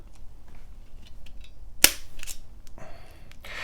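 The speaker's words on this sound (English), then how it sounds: "Now what you're hearing is just the tip of the punch kind of breaking free inside." A single sharp, loud snapping click from a spring-loaded automatic center punch close to the mic, followed by faint rustling and handling noise.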